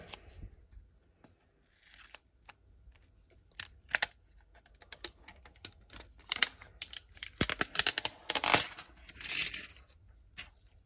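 Adhesive tape peeled away from the back of a VW Discover Pro touchscreen during a replacement, giving close, sharp crackling rips and ticks in scattered bursts that build into a denser tearing flurry near the end, with no talking.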